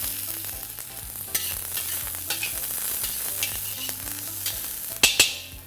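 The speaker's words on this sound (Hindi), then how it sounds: "अब इसके अंदर हम डालेंगे चॉप्ड गार्लिक और चॉप किया हुआ प्याज।" Chopped garlic and onion fry in hot oil in a pan for Mexican-style fried rice, with a steady sizzle under repeated clinks and scrapes of stirring and a couple of sharper knocks near the end; no one speaks.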